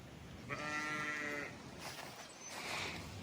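Pregnant sheep give a clear, loud bleat with a wavering voiced tone lasting about a second, followed by quieter bleating and farmyard background from the flock.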